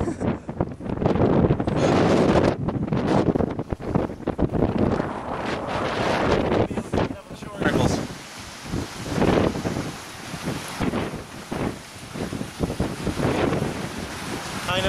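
Strong gusty wind buffets the microphone in loud, roaring surges that rise and fall throughout, with no talking heard over it.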